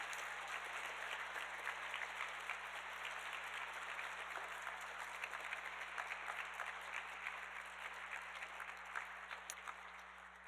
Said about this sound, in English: give a huge round of applause to the teachers and the chaperones